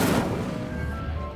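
A fire spell cast in Hogwarts Legacy bursts with a loud crackling whoosh that slowly fades, heard alone without talk.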